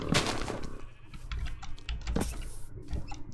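Sheep bleat amid busy sounds in the game Weaves Of Fate, a few short nasal calls rising over clicks and scuffling, fairly faint and close.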